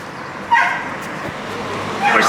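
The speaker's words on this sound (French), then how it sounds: "c'est quoi ce bruit? C'est un chien." A small dog lets out two short, high yips about a second and a half apart over steady outdoor background noise.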